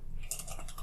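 Typing on a computer keyboard, a quick run of light key clicks over steady background noise, close and continuous with no speech.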